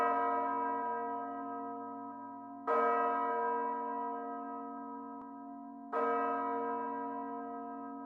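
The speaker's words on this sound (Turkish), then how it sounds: "bu sırada çanlar çalıyor" Church bells ring for the coronation of King Charles III: two loud, resonant strikes a few seconds apart, each with a long humming decay that fades slowly, with no voices.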